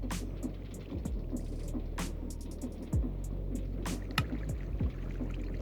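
Crushing wheels run in a modded Minecraft game, a steady low mechanical hum with a rhythmic throb and repeated sharp clicks and clunks scattered over the top, with no speech.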